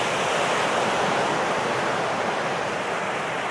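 Ocean waves wash steadily onto the rocky shore at Pebble Beach along 17 Mile Drive, a continuous broadband roar of surf with no breaks and no voices.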